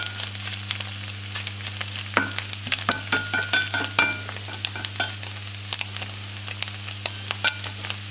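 Well-done scrambled eggs cook in a pan, with a spatula scraping and tapping in irregular bursts over a steady low hum, close and moderately loud.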